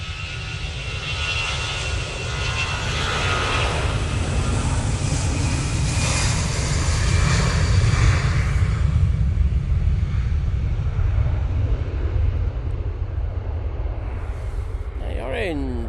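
An airliner takes off on the runway at Manchester Airport, a loud, sustained engine roar building and holding throughout, heard from nearby with people talking over it.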